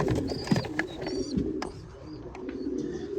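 Domestic pigeons cooing steadily inside a loft, with soft chirps and wing or body rustles over a continuous close, busy background.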